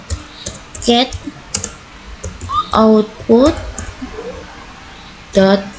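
Keys are tapped on a computer keyboard in short bursts with a firm Enter press, closely miked, while a person speaks in between the typing.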